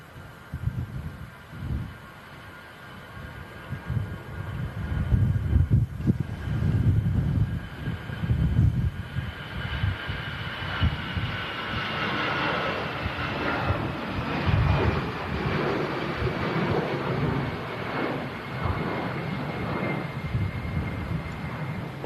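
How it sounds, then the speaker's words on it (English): An EasyJet airliner starts its takeoff roll on runway 23 right at Manchester Airport in stormy wind, with a distant engine roar building into a sustained rising whine amid gusty rumble. "EasyJet's initiating her takeoff roll now"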